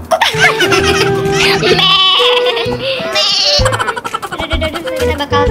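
Goat bleats in a Roblox Wild West obby game, several short wavering cries mixed with background game music while a person talks over them.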